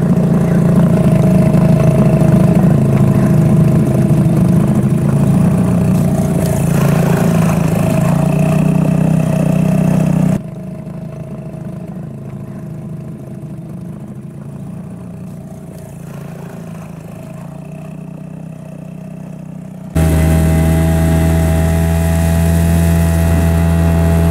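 A boat motor, raised to run like a jet through reeds and grass, drones steadily and loudly, its tone dropping lower for a stretch before rising again, continuous with no voices.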